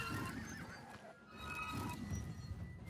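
A horse in Elder Scrolls: Oblivion whinnies, a loud wavering neigh with hoof clip-clop and a rough breathy snort, heard close by for a few seconds.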